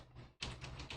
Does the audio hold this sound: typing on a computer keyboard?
yes